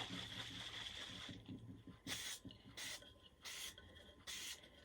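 Citristrip paint stripper sprayed from a spray bottle onto cups, four short, even bursts of hissing spray at a steady rhythm, close and fairly loud over a low background hum.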